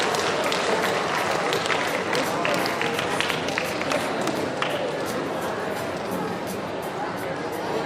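Audience at a school of communication event breaking into sustained applause and cheering for prize winners, a dense wash of clapping and crowd noise filling the whole span at steady loudness.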